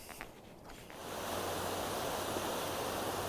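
Soda Creek rushes below a crossing, rising after a quiet second into a loud, steady broadband wash of flowing water that continues unbroken and close, with no voices.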